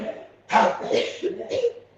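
A person coughs several times in quick succession during a prayer, a short burst of harsh, close coughs with brief gaps between them.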